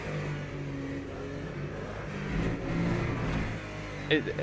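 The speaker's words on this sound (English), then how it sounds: "The sound of the car, you know, it's a twin turbo V6" A twin-turbo V6 race car engine in Le Mans Ultimate drones and revs, rising and falling in pitch, with a faint voice beneath the steady mechanical roar.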